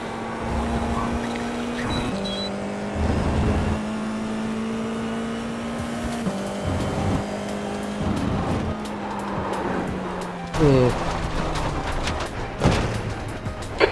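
Formula 4 race car engine in iRacing at Laguna Seca, a steady sustained drone that holds one pitch, then drops in steps as the car brakes into a corner, with a brief rising whine and clatter near the end; no talk.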